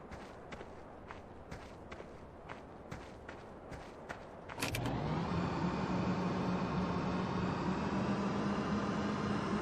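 A golf cart in Farming Simulator 2013 first gives a run of regular footstep-like ticks, then its engine starts into a steady, droning hum that holds at an even level to the end.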